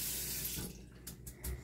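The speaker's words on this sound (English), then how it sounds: "But now I'm going to clean off with some hot water." Hot tap water runs steadily over an aquarium decoration being rinsed in a sink, a close hissing stream that briefly splashes and shifts as the object is turned.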